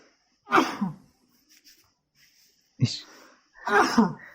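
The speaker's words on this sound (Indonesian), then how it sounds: "Ada yang bersin." A single sneeze in a hall during an open political rally announcing a 2024 presidential candidate, a short sharp burst standing alone and followed by a second vocal outburst, with speech before and after.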